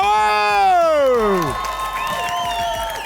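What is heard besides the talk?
audience applauding and cheering at an improv match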